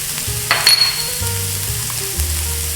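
Cumin and other spices hit hot oil with fried onion in a pan, giving a steady close sizzle and crackle with a brief stir or scrape near the start and no talking.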